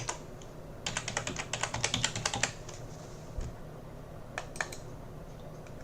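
Keys clatter on a computer keyboard as a new password is typed, a quick burst of close, crisp clicks followed by a pause and a couple of brief final taps in a quiet room.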